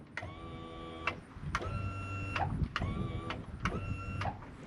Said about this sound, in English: And then right here is my trim.